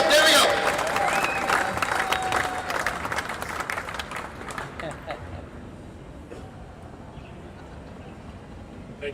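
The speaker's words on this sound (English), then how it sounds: "You can clap in here, you can clap." Audience clapping at the opening ceremony of an over-40s cricket world cup, a burst of applause that starts fairly loud and dense, then thins and fades away over several seconds.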